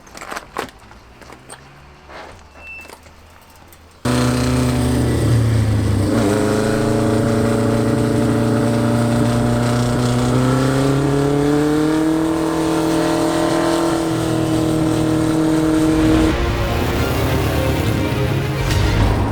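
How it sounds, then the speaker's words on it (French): A car's engine starts loud after a quiet handheld opening, then revs and climbs in pitch as it drives for a camera tracking shot, holding a strong steady roar before easing slightly near the end. "il va conduire le bolide, là derrière"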